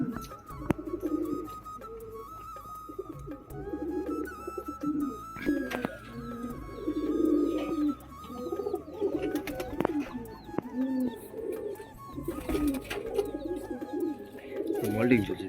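Domestic pigeons coo in a loft, a steady run of soft low rolling coos repeating throughout over a busy background with faint chirps.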